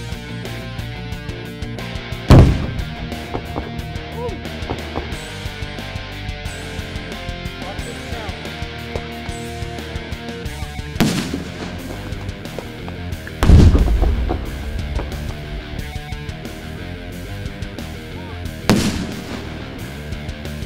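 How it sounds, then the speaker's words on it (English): Four small explosive charges detonate at uneven intervals at a firing range, sharp booming blasts, loud and punchy, over continuous background music. "So these are small explosions, right?"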